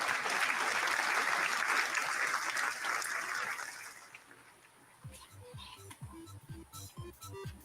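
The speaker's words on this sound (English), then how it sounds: "Let's give him another round of applause." An audience applauds Super Mario World as winner of a Super NES game battle: a full, loud round of clapping that fades out partway through, followed by softer tonal, music-like sounds.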